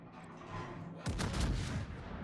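A Tier 9 Japanese premium battleship, the Tsurugi, fires its main guns in World of Warships: a heavy, rumbling salvo booms in near the midpoint and rolls on over a constant low drone of engine and sea.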